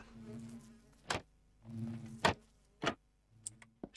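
Bees buzz in the Minecraft Resourceful Bees modpack: short droning hums in separate bursts, broken up by sharp clicking game sounds, with no talking.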